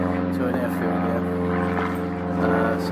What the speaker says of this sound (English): Sorry about the planes, ladies and gents, but we are fairly close to an airfield here.